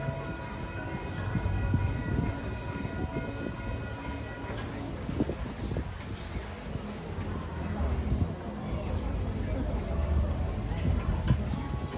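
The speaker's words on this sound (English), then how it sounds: "First, we're going to ride the train." The Pineapple Express tourist train in Hawaii rumbles along with steady rail clatter and a sustained horn tone early on, while people talk throughout the ride.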